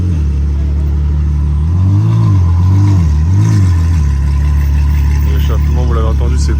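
A Ferrari 812 fitted with an aftermarket exhaust revs in a street setting, three loud rising-and-falling blips swelling over a steady low idle before settling back, with traffic noise and voices around.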